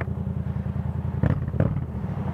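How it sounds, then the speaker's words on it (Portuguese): A truck rumbles past on the road near an idling motorbike, its low engine drone steady, with two louder surges as it goes by. "Vou deixar o caminhão passar aí."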